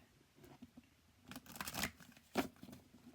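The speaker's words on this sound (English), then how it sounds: "I'm going to shuffle this deck" A large tarot deck is shuffled by hand, soft papery riffles and slides in a few short bursts, close and quiet against a faint room background.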